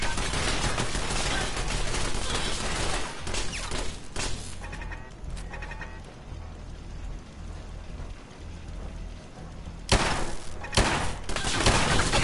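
Gunfire from Ada, a robot companion in Fallout 4's Automatron add-on, shooting at a turret; dense rapid bursts under ongoing game noise, fading midway and returning loudly near the end.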